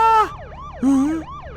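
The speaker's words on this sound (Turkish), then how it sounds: "Ana bu siren sesi." Police siren in a Minecraft game, heard as wailing up-and-down sweeps: a loud burst, a fading rise and fall, then a second strong wail that trails off into a faint third sweep.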